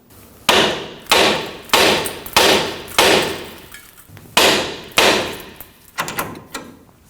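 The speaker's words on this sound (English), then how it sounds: "To release the outer tie rod from the knuckle, we'll go ahead and strike the knuckle right here" A hammer strikes the steel steering knuckle of a 2009-2014 Ford F-150 to free the outer tie rod, seven or eight sharp metallic blows in a steady rhythm, then a few lighter taps, loud and close with no talk.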